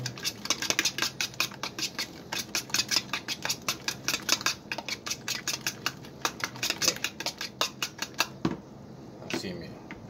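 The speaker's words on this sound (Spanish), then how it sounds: "Vamos a batir un poquito." A utensil beats hot cooked beans with onion in a pot, producing fast, close metallic clinks in a steady rhythm that stop near the end, with a voice briefly heard.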